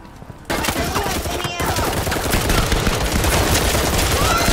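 Pistol gunfire in the VR shooter Firewall Zero Hour, a dense run of close shots starting abruptly after a quiet moment and continuing loudly amid other battle noise.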